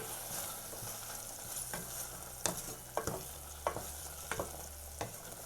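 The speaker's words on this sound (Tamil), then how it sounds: "இப்போ இதை வந்து நல்லா கலந்து விட்டுறலாம்." Salted mint rice masala frying in a pan, a soft steady sizzle broken by a series of sharp spatula knocks and scrapes as it is stirred, close by, with no voices.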